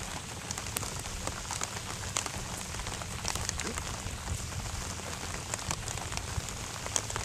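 Rain falls steadily outdoors during a fishing trip at the 1969 Woodstock Festival, a soft continuous patter with scattered sharper drops, faint and even throughout.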